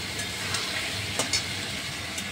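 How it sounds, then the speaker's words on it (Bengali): Potatoes and spice mixture are sautéed in a pan, giving a steady close sizzle and hiss with a few faint scraping stirs. "ভালো করে একটু কষিয়ে নিতে হবে"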